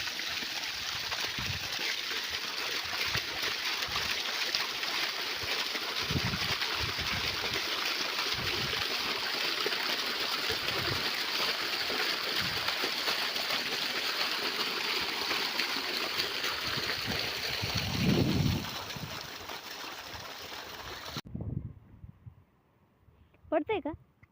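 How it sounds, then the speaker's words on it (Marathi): Water from a motor-pumped well pours steadily in a field at evening, a continuous rushing gush that fills the scene for most of its length before cutting off abruptly, with a few brief knocks at the end. "मस्त विहिरी असं पाणी चाललेलं आहे."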